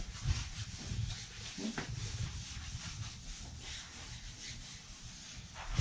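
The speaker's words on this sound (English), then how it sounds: "With a towel or a cloth, anything you have. And just scrub it all around it until it's all covered." A cloth or towel is scrubbed back and forth over a snowboard base in close, repeated rubbing strokes with a soft, hissy texture. A brief knock comes partway through, and no one speaks.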